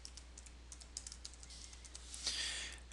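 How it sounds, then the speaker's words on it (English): Quick, light keystrokes on a computer keyboard as a password is typed, a steady close run of clicks with a slightly denser burst near the end. "And now you can type in"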